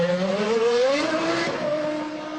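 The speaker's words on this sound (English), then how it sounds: "We're just going to wait while Jos Verstappen comes out the garage." Jos Verstappen's Arrows Formula 1 car with a Cosworth engine leaves the garage at the 2001 German Grand Prix, a steady, loud engine tone rising slightly in pitch as it pulls away, with no talk over it.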